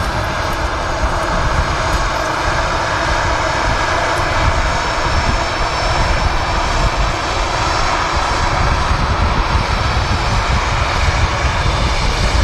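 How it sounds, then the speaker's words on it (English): A loud, continuous whine and roar from an EasyJet airliner's engines as it taxis onto the runway at Manchester Airport, steady and close with no voices. "EasyJet is about to enter the runway."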